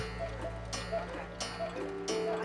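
Pendulum clock ticking steadily in an even tick-tock rhythm, fairly faint under a low background hum, with no speech.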